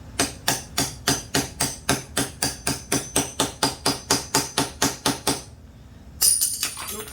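About seventeen quick, even hammer blows on a socket drive a bearing race into the fork of a Mototec bike during a TDpro fork kit install, each a sharp metallic knock, then a short pause and a light clatter.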